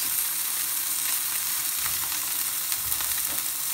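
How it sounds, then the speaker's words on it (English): A sea bass fillet fries skin-side down in a hot pan, giving a loud, even close-up sizzle with fine crackling throughout and no talk. "Hold it down for a couple of seconds so the skin keeps contact with the pan."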